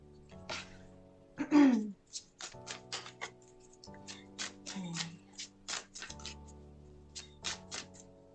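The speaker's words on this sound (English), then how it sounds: "I'm just having a little bit more of a shuffle" Oracle cards shuffled by hand, a run of crisp close riffling and tapping bursts with brief pauses between, faint room hum beneath and a short vocal murmur early on.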